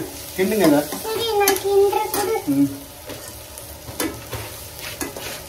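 Food stirred in a pan for a Moiko-style dish, with ladle scrapes and clinks over a steady sizzle, louder in the first half and then easing off, heard close up without talk.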